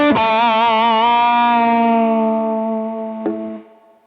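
A guitar played through an Eventide H9 distortion effect with compression at zero rings out as one loud, sustained, harmonically rich note that slowly fades, with a second pick attack near the end before it trails off.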